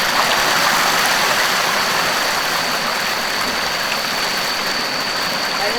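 A river runs right beside a house, giving a steady, loud broadband rush of flowing water that holds even from start to finish with no voices.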